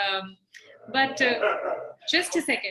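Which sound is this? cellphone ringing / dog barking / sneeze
dog barking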